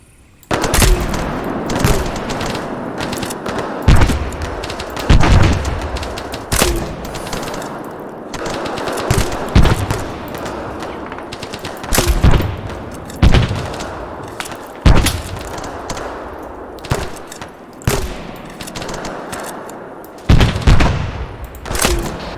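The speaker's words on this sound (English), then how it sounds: "Rapid fire." Rapid rifle and machine gun fire during an ArmA 3 infantry battle, loud, sustained bursts of overlapping gunshots that continue almost without pause, with heavier booming reports standing out now and then.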